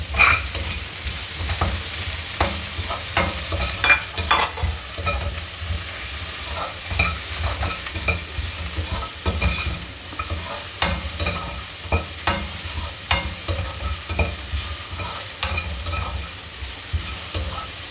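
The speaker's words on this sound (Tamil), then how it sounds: "ஜஸ்ட்டு ஒரு 1 மினிட் சாட்டே பண்ணிங்கன்னா போதும்" Onion and curry leaves sauté in a pan with fennel seeds for an Indian-style broccoli dish, giving a steady close sizzle broken by frequent clicks and scrapes of stirring, no voices.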